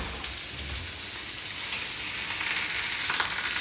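Paneer fries in a generous amount of ghee in a kadhai, a dense, close, continuous sizzle that grows slightly louder toward the end, with no voices over it.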